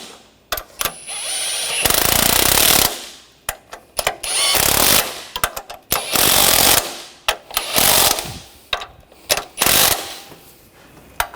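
A power tool tightening valve cover bolts on a 2.5L Nissan Rogue, loud close bursts of rattling impact hammering, some long and some short, separated by brief pauses.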